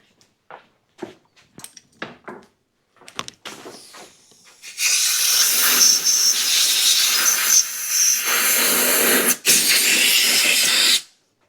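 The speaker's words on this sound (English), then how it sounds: "Spray just a little bit of carb cleaner there." A few light taps and clicks, then a loud, sustained aerosol of carb cleaner hisses close by in long bursts with a brief break, sprayed on a generator carburetor.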